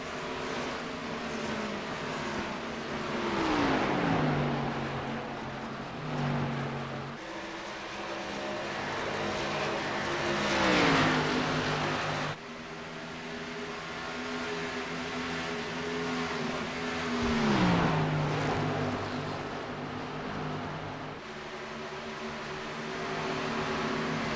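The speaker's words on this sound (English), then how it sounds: "I actually figured out how to make the cars loud enough so you could hear them" Race car engines roar through a video game oval race at Texas, with repeated loud passes whose pitch climbs and then drops as cars sweep by, sustained and continuous with no talk.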